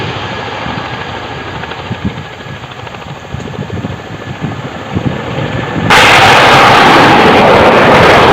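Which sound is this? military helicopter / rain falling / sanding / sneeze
military helicopter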